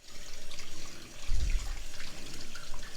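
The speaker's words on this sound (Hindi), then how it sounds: "अब मैंने इसे धोऊंगी।" Peeled eggplants are washed under a running tap into a sink, a steady close splash and trickle of water with a brief heavier gush partway through, with no voices.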